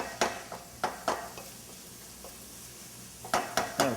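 Apple pieces sautéing in a pan with sauerkraut nearby, a steady low sizzle broken by several sharp scraping stirs of a utensil, clustered at the start and end, close and fairly quiet.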